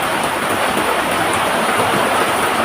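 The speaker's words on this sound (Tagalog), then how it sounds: "Malakas po ang ulan." Heavy rain pours down in a dense, unbroken roar of hiss that holds at the same level from start to finish, with no voices.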